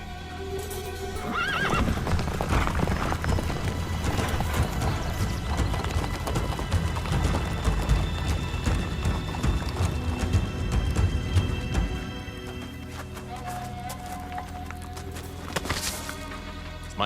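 A horse clip-clops on hard ground with repeated whinnies and neighs over a busy, loud film soundtrack, the hoofbeats dense and close through the middle, then fading into quieter ambience with a final whinny.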